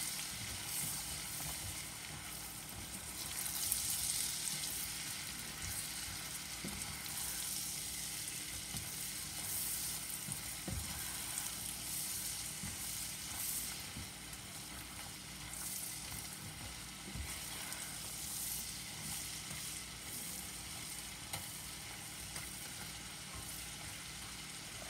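Apple mixture being stirred as it fries in a pan, a steady close sizzle running throughout with occasional soft scrapes and clinks of the spoon.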